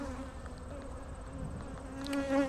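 Guard honeybees buzzing close around a beekeeper during a hive inspection, a steady droning hum of several bees that swells slightly toward the end.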